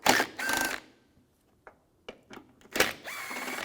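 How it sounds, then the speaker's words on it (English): A T30 socket turns out headlight screws on a BMW X3, giving brief bursts of ratcheting and scraping separated by quiet gaps and a few faint clicks. "Take these two screws out up top with the same T30 socket."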